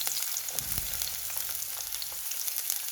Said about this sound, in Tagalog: ilagay na natin ang ating onion guys